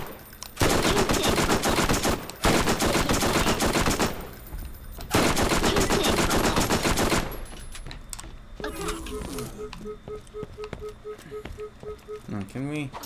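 Submachine gun in the Borderlands video game fires in long rapid bursts at close range, with brief gaps between them. The firing then stops, and a voice and clicking game sounds follow.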